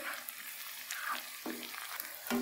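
Whole cloves and green cardamom pods are stirred into chicken karahi frying in a pan, giving a soft, steady sizzle with faint scraping and clinks from the spoon, fairly quiet and with no talking.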